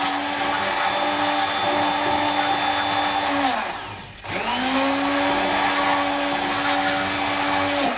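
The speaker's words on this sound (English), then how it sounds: "These electric whisks are only cheap, and it is worth investing in them if you want to make cream for yourself." Electric hand whisk whipping homemade natural skin cream, a loud steady motor whine that dips briefly as it slows and then revs back up to full speed, with no talking.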